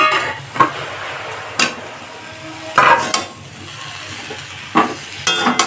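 Fried fish heads simmer with spices in a pan over a low flame for a Bengali chachori, giving a low steady sizzle under a few sharp clinks of a spoon against the pan.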